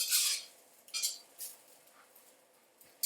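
A spatula scrapes and tosses Cantonese-style fried rice with soy sauce, carrots and bell pepper around a pan, giving a few quiet, brisk scraping strokes with short pauses between them.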